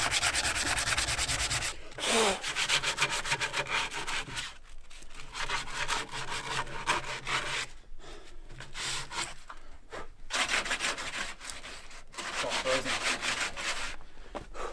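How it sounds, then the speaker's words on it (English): Rhythmic rasping strokes of sandpaper on the wood of an outdoor shower, close and loud, in repeated bursts with a few brief pauses. "Gonna sand it down a little, see if we can get it look a little better"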